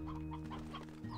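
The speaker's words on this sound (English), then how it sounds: "Why do I have so many roosters now?" Roosters and chickens on a ranch in a video game give a few quiet, brief clucks in quick succession over a low steady hum.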